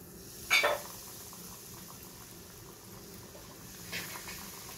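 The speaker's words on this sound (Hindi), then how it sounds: "इसके अंदर मैं अपने हाफ मून फ्राई करूँगी।" Chicken half moon pies frying in hot oil give a quiet, steady sizzle, with a brief louder crackling burst near the start and a smaller one toward the end.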